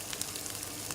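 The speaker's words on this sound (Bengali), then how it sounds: "মশলাটাকে খুব ভালো করে তেল বেরিয়ে আসা অবধি কষিয়ে নিচ্ছি" Masala spices with a little ground cumin sizzle and fry in oil in a pan before taro goes in, a faint, steady hiss with soft crackling pops throughout.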